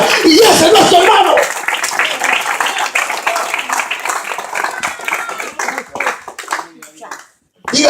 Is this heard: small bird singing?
no